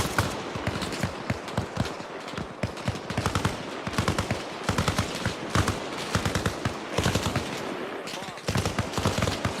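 Sustained automatic rifle and machine gun fire in the military shooter Arma Reforger, dense overlapping bursts and single cracks rattling nonstop at close range, with radio-style voices calling out under the shooting.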